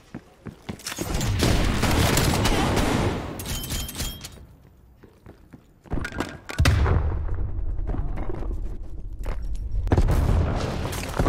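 Loud booming explosions and bursts of gunfire fill a Call of Duty Black Ops Cold War multiplayer match, with a sustained roaring blast, a brief lull, then another heavy rumbling explosion and more sharp cracks.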